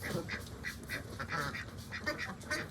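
Ducks quack in a run of repeated, fairly close honking calls outdoors, with no voices over them.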